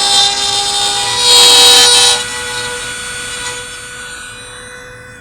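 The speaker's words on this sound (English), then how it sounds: "We're just going to carefully make the cut so that the wire will be hidden directly from the top." A power tool cuts a hole for a wire connector while a Ram 1500 headlight halo is installed, giving a loud, steady high-pitched whine that rises briefly, then winds down and fades as the tool spins to a stop.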